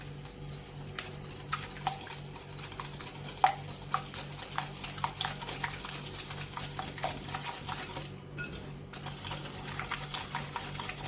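A spoon or whisk stirs cupcake batter with sugar in a bowl, giving soft continuous scraping and occasional clinks against the bowl at close range, with no talking.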